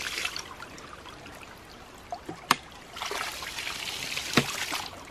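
Water trickles and gurgles from a ram pump as air is drained from it, a soft continuous splashing flow with a couple of brief louder spurts, close by with no talking.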